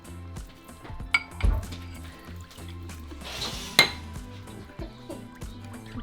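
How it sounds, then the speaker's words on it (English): Maseca is stirred with half a cup of water in a bowl, with scattered clinks and scrapes of a utensil against the dish and a soft wet swirl, close and without speech. "we're going to mix our maseca with a half a cup of water"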